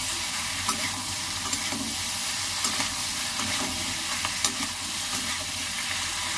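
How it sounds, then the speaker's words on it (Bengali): Chicken for chilli chicken frying in a pan with tomato, a steady loud sizzle and hiss with occasional sharp scraping stirs of a spatula, close up and without speech. "চিকেনটা আগে দিয়ে দেবো, নেড়ে নেব"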